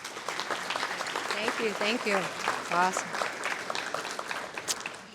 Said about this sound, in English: can you give yourselves a round of applause for being here this morning?